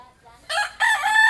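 A rooster at a seaside family home in the Philippines crows nearby, loud and clear, one drawn-out call rising after a brief cluck, with the yard otherwise quiet.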